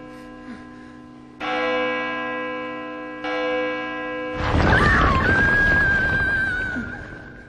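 A large bell from the Ys II video game tolls twice in slow succession, each strike ringing out with long sustained harmonics, followed by a swelling burst of dramatic noise and a high rising tone.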